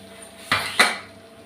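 Two sharp metallic clanks, the second a bit louder, as the weight is set on a pressure cooker of rice in a home kitchen, close by and without talk, over a faint background hum.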